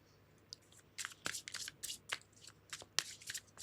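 Tarot cards are shuffled by hand close up, giving a run of soft, crisp riffles and slaps in an uneven rhythm against a quiet background, with no one speaking.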